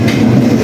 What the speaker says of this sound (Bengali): আমাদের ট্রেন এখনই চলে আসবে